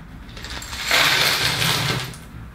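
A pile of small plastic LEGO leaf pieces rattling and clattering together in a brief burst, loud and close.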